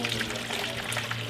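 Water is poured into the plastic cup of a DYC spray gun for cleaning, giving a short, steady splashing trickle over a low background hum.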